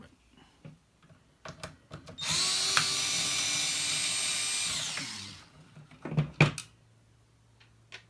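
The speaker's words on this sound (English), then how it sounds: "Sometimes these screws can be a little stubborn to get out." A power screwdriver or drill whines steadily for about three seconds while backing out stubborn screws from a retro device, framed by quieter clicks and handling knocks before and after.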